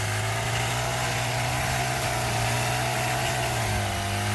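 A Honda GX35 grass cutter engine runs continuously at a steady drone, loud and close, with a constant hum and no pauses or voices.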